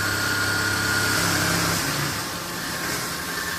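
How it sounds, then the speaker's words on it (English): Vibrators and an auger conveyor run together, automatically feeding a mixer hopper with a steady mechanical hum and buzzing vibration, close and continuous, dipping slightly partway through. "as you can see our vibrators started to turn on. And we've started to automatically feed"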